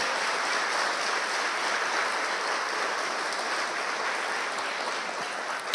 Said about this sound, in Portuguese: pode aplaudir o nome do Senhor.